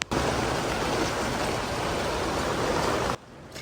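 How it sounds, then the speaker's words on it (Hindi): Rain falling in Mina during the Hajj, heard as a dense, steady wash of hiss that is loud and continuous before cutting off abruptly near the end. "और अभी देखें मिना में बारिश शुरू हो गई है"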